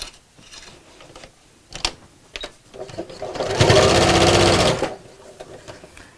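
A sewing machine stitches rows along an apron seam in a single loud, steady whirring run of about a second and a half. Quieter handling sounds of fabric come before it.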